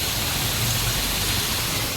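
Heavy downpour drenching a residential lane that is filling with floodwater, a loud, steady, broadband hiss of rain close by with no breaks and no voices.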